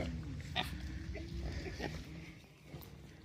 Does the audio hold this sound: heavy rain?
no